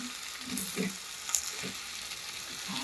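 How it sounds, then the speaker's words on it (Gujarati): A pan of fasting-day vegetable dish with finely chopped coriander sizzles softly while a spoon stirs it in a few quick scraping passes, close by and without speech. "એકવાર આપણે આને ચલાવી લઈશું"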